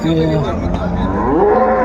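A dairy cow at the Palamaneru cattle market lets out a loud, close, drawn-out moo that fills the whole moment, with crowd noise faint beneath it.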